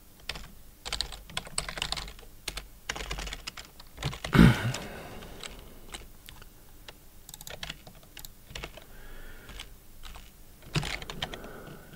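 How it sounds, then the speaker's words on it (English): Keys clatter on a computer keyboard in irregular bursts of close, crisp taps, with one louder thump partway through. "Typing exercise again."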